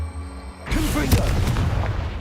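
A Confringo blasting spell goes off in Hogwarts Legacy, a sudden loud boom at about 0.7 s that leaves a dense, rumbling roar of debris and crackle through the rest of the moment, with no talk over it.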